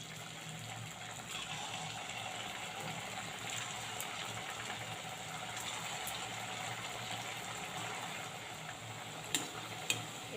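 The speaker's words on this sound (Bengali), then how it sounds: "এবারে একে একে মিষ্টিগুলো আমি ভেজে নেব।" Semolina rasmalai sweets frying one by one in hot oil over low-to-medium heat, a continuous soft hissing sizzle at low level, with a couple of faint clicks near the end.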